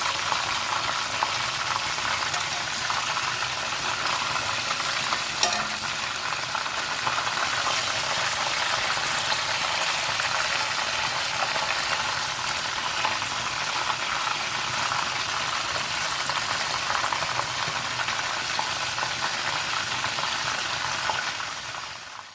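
A whole Lahori chicken charga with tied legs deep-frying in hot oil, giving a loud, steady, crackling sizzle that holds unbroken for over twenty seconds with no speech.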